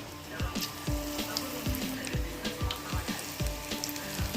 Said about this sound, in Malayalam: നമ്മുടെ എണ്ണ തിളച്ചിട്ടുണ്ട് ഓരോന്നായിട്ട് ഇട്ട് കൊടുക്കാം